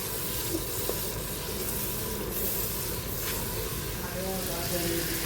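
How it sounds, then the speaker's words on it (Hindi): Spices and chilies frying in a cooking pot with about a quarter cup of water added, for a village-style tadka dal, give a steady, dense hiss and sizzle close by, continuous and fairly quiet throughout. "1/4 कप जितना हम बर्तन में पानी डाल देंगे ताकि मिर्चें अच्छी तरह से भुन जाएँ, पक जाए"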